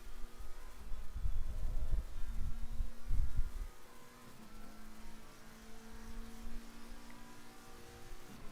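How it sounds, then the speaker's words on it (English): McLaren race car in a racing video game at Barcelona, its engine droning steadily through the final corners with a fuller, louder surge early on before settling into a lower, continuous hum. "Let's listen to this McLaren as we go through this final couple of corners."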